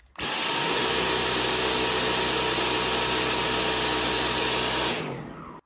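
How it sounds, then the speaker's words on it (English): A Dyson V10 Animal cordless stick vacuum with its original air filter runs loudly and steadily with a high-pitched whine, starting abruptly and winding down near the end. "This is what it sounds like with the original Dyson air filter."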